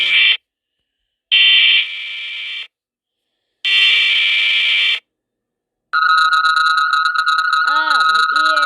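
An Emergency Alert System warning tone made in KineMaster plays as loud bursts of harsh buzzing separated by silences, then shifts into a steady piercing two-tone alert with a warbling sweep underneath.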